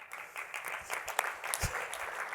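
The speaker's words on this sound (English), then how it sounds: "Yes, a clap." A conference audience at a developer talk gives brief, moderately loud applause that fills the room evenly and steadily, with no voices over it.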